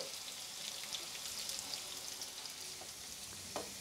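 Sliced onions frying in hot oil for birista, a steady hiss and crackle of sizzling with faint stirring scrapes and a louder clink near the end, close and without talk.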